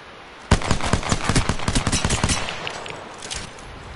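Gunfire in Apex Legends breaks out suddenly as a dense burst of rapid shots, loud at first and then thinning to scattered, quieter cracks toward the end.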